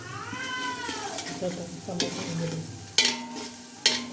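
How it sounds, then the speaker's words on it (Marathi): Whole spices fry in oil in a pan for biryani, with a continuous low sizzle, stirring scrapes and two sharp utensil knocks near the end, while a voice talks over the cooking. "आता खडा मसाला मस्त लाल सरत असा होऊन देणार आहोत आपण बिर्याणीचा"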